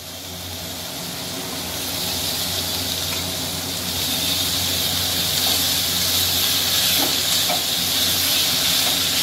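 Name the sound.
banana flower being sautéed in spice paste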